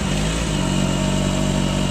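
A 2006 Kawasaki ZX14 Ninja with a cold fuel-injected engine runs loud and close, a steady dense engine roar without gaps or talk.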